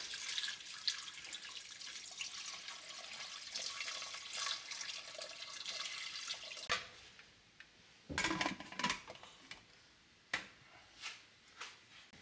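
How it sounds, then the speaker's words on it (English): Water pours steadily into a cooking pot for a Filipino-style log log noodle dish, a continuous close splashing stream that stops abruptly, followed by a few clanks of the pot. "Add water."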